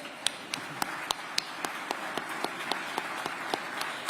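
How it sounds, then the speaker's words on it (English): At a Veterans Day breakfast, the audience claps for two honored guests: an even, brisk patter of hand claps with distinct individual slaps, moderately close and continuing steadily throughout. "let's clap for Andre and Cass, come on"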